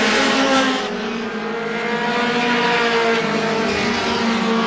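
Roadrunner feature race cars circling Star Speedway, a loud, continuous roar of several engines at speed with droning, shifting pitch, no talk over it.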